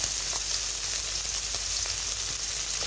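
Chopped onion frying in a pan while cooking fish, giving a dense, even sizzle that stays close and constant for a few seconds with no talk.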